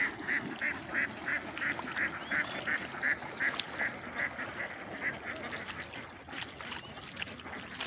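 Domestic ducks in their pen near their shelter, a run of rapid rhythmic quacks close by over rustling and low background noise, fading toward the end.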